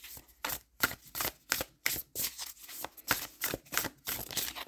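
Inner child oracle cards are handled up close, with a quick run of crisp, papery riffling and flicking bursts in an even rhythm. The card sounds are soft and heard alone, with no talk.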